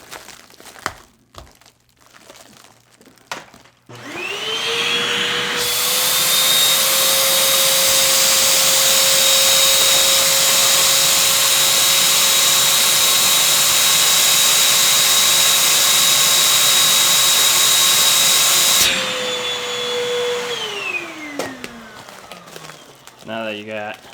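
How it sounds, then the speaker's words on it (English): A vacuum sealer pulls air from a canning jar fitted with a compression lid inside a bag, a steady loud motor whine that rises in pitch, holds for about fifteen seconds, then winds down, with brief handling noises before and after. "Now that you got a vacuum pulled into the jar, take the jar out"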